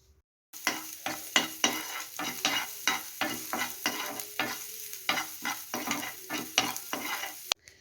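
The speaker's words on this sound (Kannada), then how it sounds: "ಈರುಳ್ಳಿ ಸ್ವಲ್ಪ ಹೊತ್ತು ಫ್ರೈ ಮಾಡ್ಕೋಬೇಕು" Chopped onion fries in hot oil in a pan, close and loud, as about a dozen rhythmic stirring scrapes cut through a continuous sizzle for several seconds.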